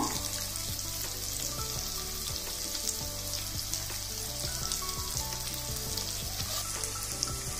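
Thinly sliced onions frying in oil for Rayalaseema uggani: a dense, continuous crackling sizzle with faint scraping underneath, steady and close throughout, no voices.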